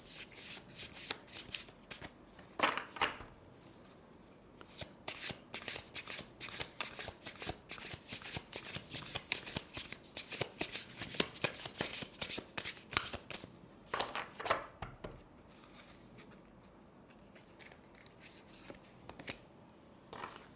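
A deck of tarot cards is shuffled over and over, making rapid crisp riffles and soft flutters close by that go on through the whole span with only short pauses.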